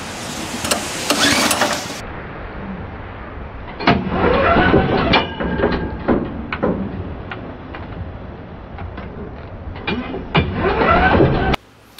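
A Harbor Freight Central Machinery band saw mill engine, never run before, undergoing a start attempt: repeated cranking bursts and sputtering pulls separated by pauses, fairly close and moderately loud.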